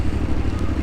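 A motorcycle idles nearby with its engine running, a steady low rumble with a rhythmic pulsing throb that carries on without a break.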